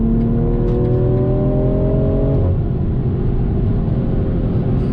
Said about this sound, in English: for this to be an automatic, it actually has rev matching downshifts that it does